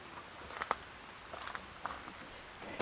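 Rainwater drips from trees onto a winter campsite near the Columbia River Gorge, with scattered soft irregular taps and patters close by against a quiet background.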